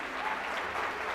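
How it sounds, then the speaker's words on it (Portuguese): A church congregation breaks into a short round of applause during a service, dense clapping filling the room at moderate loudness for about a second. "Você pode dar uma salva de palmas para Jesus?"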